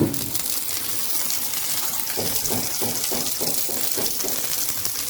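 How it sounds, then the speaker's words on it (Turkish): Oil poured into a pan for an omelette, a soft steady liquid trickle with faint sizzling and gushing texture, continuous and close, no talk. "Birazcık daha yağ döküyoruz."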